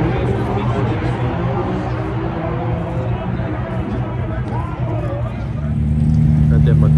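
A turbocharged race car at Houston Raceway rumbles past nearby with a steady engine drone that swells louder toward the end, under crowd noise and voices talking.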